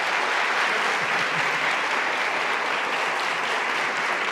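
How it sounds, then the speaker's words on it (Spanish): An audience applauds at a university forum event with the education minister, a loud, dense and continuous roar of clapping lasting the full four seconds without letup. "un aplauso, por favor, para el señor Nelson"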